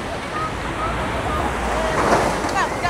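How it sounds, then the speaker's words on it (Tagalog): Strong typhoon wind and surf from Typhoon Tino in Bacolod City roar as a continuous, loud, broadband rush with gusting swells and crashing water throughout. "nabatsagan na ang mamadlos nga hangin kag ulan sa Bacolod City tugas ang Bagyo Tino"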